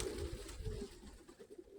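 A single pigeon, a female dove just released, coos softly in a low repeated pattern over a steady windy background, no voices present.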